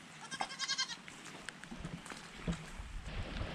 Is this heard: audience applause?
no